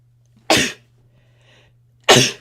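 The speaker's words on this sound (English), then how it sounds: "hold on, I'm going to sneeze." Two sharp, loud sneezes from a person recording a science podcast, about a second and a half apart, with near silence between them over a faint steady hum.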